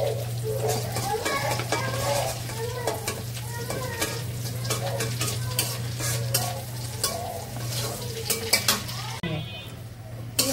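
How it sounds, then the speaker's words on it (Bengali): Spiced masoor dal cooking in a pan with masala being fried, a steady sizzle under frequent metal spoon scrapes and clanks against the pot, a low hum running beneath, and faint voices in the background. "মসুরের ডাল দিয়ে মশলা কষায় রান্না করতেছে।"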